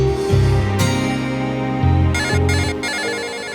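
A mobile phone rings loudly in a TV drama scene, a repeating electronic ringtone melody with pulsing beeps, heard alone and close.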